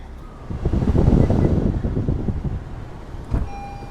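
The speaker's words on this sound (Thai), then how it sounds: "แบ บเปิดแอร์ให้ ฉ่ำๆเลยนะคะ" Air conditioning in a Honda HR-V 1.8 RS blows hard inside the cabin, a broad rushing whoosh that swells and then settles into a steady airflow, with a short knock near the end.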